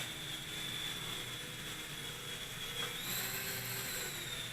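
A Silverlit Metal Copter toy helicopter running at full throttle gives a faint, steady high-pitched motor whine that rises slightly in pitch partway through, continuous and heard without talk.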